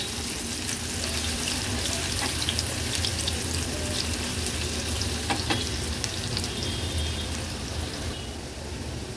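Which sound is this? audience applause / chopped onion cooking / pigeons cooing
chopped onion cooking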